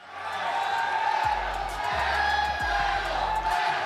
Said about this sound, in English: It's a very heavy crowd right now.